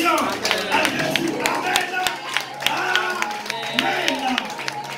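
Church congregation clapping and calling out acclamations after a prayer's amen, with a dense patter of hand claps and raised voices mixed with talk throughout.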